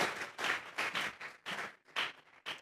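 A church congregation claps in a series of short rhythmic bursts, about eight loud crisp waves of hand claps in quick succession, close and without speech.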